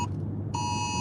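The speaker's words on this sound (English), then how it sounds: "These emergency things, they stop your whole phone." A phone sounds an emergency alert notification as a piercing steady beep that cuts out briefly and then resumes, over a low background rumble, with no talking.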